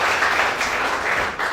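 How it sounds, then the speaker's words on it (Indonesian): A church congregation claps and applauds continuously for a moment at close range, with a dense, steady patter and no talking over it. "Yang setuju tepuk tangan dulu bagi Allah."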